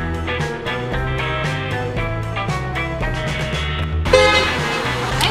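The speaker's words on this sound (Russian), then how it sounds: "А зачем вы пешеходы на тротуаре сигналите?" A car horn sounds in a rapid run of short honks aimed at pedestrians on a sidewalk in a city street, then settles into a longer held blast near the end, loud and close.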